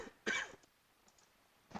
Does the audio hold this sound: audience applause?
no